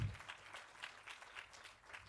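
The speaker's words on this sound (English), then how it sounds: "Let's give them a huge round of applause" Faint, distant applause for panelists at a regional meditation conference, a sparse and steady patter of a few hands clapping in a quiet hall.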